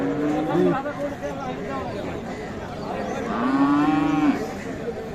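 A Gir cow with her calf at a cattle market gives two drawn-out moos, near and loud, over a steady murmur of crowd chatter and nearby voices.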